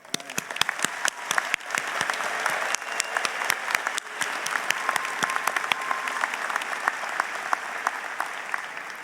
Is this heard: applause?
yes